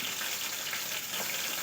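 Onion and ginger-garlic paste fry in a hot kadhai over a cumin tempering, giving a steady, close, unbroken sizzle with no voices.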